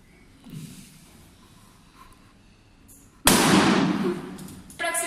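A soil-filled balloon held over a candle flame bursts with one sharp loud pop after several seconds of quiet room noise, the crackling noise trailing off gradually, with a smaller rustle just afterward.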